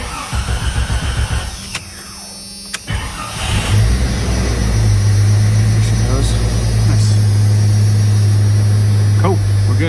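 A Jeep with a newly fitted starter cranks briefly, then fires and settles into a loud, steady idle close by.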